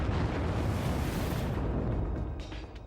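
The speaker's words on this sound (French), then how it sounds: "Et nous assistons à des explosions de supernovae." A supernova explosion sound effect in a space documentary: a loud, dense rumbling blast that roars steadily for a couple of seconds before slowly thinning out.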